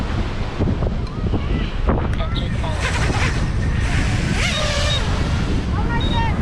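Strong outdoor wind buffets the microphone with steady, loud roaring noise throughout. Faint voices may sit beneath it.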